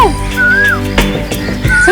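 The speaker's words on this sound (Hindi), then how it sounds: "कोयल" An Asian koel sings in a forest, with clear rising whistled calls near the start and the end and some rustling and thumps in between.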